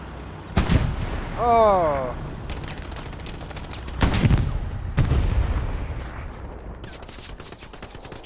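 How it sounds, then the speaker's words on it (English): A tank fight in the video game Hell Let Loose, with booming cannon blasts and explosions at irregular intervals over a rumbling background, plus a brief voiced exclamation. "Look at this tank fight."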